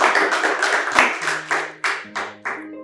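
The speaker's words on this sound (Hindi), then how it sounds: "एक बार आप सबके लिए जोरदार तालियां जो PSW के लिए आए" An audience applauds loudly at a poetry event. Dense clapping thins into a few separate, distinct claps by the end.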